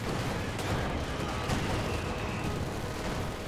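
MG42 machine-gun fire in the Company of Heroes 2 strategy game: a dense, steady rattle of battlefield gunfire and explosions that fills the whole stretch at an even, loud level, with no pauses between bursts.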